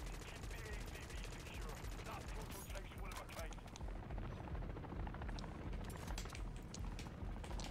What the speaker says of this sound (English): Can I activate this turret over here?